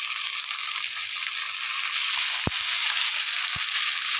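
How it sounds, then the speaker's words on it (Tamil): Ground masala frying in a pan for country chicken gravy, a steady broadband sizzle throughout with two or three short clicks of a utensil, no talking. "மசாலா சேர்த்து நல்லா வதக்கலாம்"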